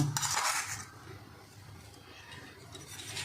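A spoon clinks against a bowl while powdered sugar is added to flour and oil, giving a few light scraping and tapping sounds, loudest at the start and then fading to a soft rustle.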